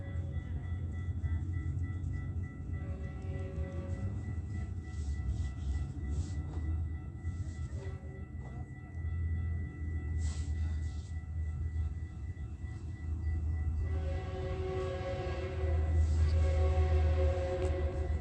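A Metrolink commuter train rumbles past steadily at close range, with the deep roll of its cars and a sustained horn-like tone swelling near the end.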